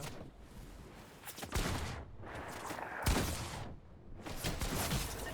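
Gunfire in the Fortnite battle royale game comes as three rapid bursts with brief gaps between them, loud and sharp, with no talking over it.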